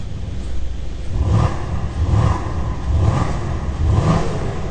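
Engine of a 2019 Mercedes S63 AMG coupé with the sport exhaust off is blipped repeatedly, four or five moderate revs swelling over a steady idle rumble, muffled and restrained.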